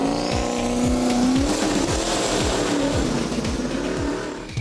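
A car with a 427 LSX V8 engine roars at high revs in repeated rising gear pulls, loud and close, with tire squeal over the engine.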